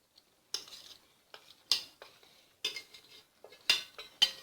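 Fried paneer is stirred into a thick masala gravy in a pan, producing a run of sharp metallic scrapes and clinks. About seven close, distinct strokes come at an irregular rhythm with quiet gaps between them.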